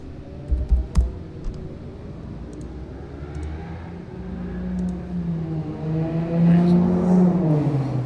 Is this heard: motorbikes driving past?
yes